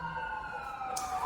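An ambulance siren wails steadily with sustained sweeping tones, moderately loud and continuous for the whole stretch, with no talk over it.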